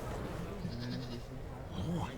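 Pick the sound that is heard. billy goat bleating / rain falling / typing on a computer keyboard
billy goat bleating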